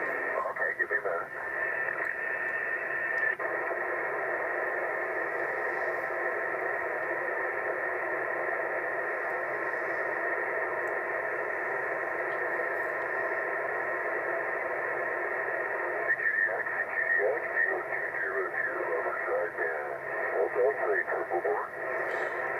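An amateur radio transmission on upper sideband: a continuous band of hissy, static-filled radio noise with a voice faintly buried inside, steady and moderately loud for the whole stretch.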